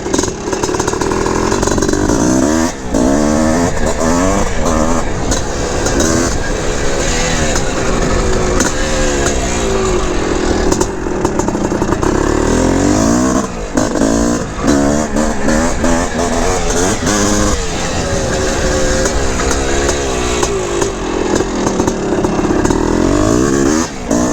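A 1981 Honda CR450R Elsinore big-bore motorcycle being ridden, its loud, close engine roaring and revving continuously with repeated rising and falling throttle pulls through cornering.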